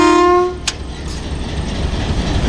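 A Kohat Express locomotive sounds its horn at departure from Kohat Cantonment: a loud, close, sustained multi-tone blast lasting about half a second, followed by a sharp clank and steady rumbling railway noise.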